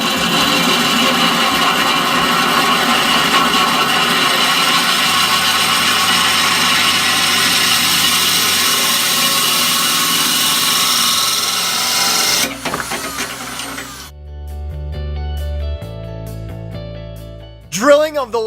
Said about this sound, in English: Drilling of the last tank.